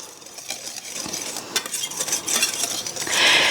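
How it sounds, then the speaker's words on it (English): A whisk rattles against a bowl as a sifted flour mixture is beaten, giving quick metallic clinks and scraping strokes that grow louder toward the end. "once I whisk it, it will break apart"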